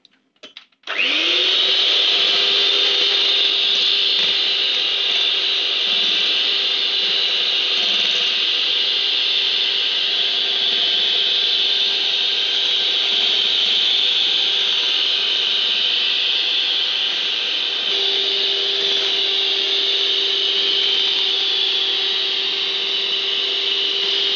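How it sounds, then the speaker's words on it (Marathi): Electric hand mixer whirring steadily through butterscotch ice cream batter, a continuous loud motor drone that starts abruptly and holds an even pitch with a slight drop partway through, with no voices. "आता हे बॅटर पुन्हा एकदा मिक्स करून घेऊया."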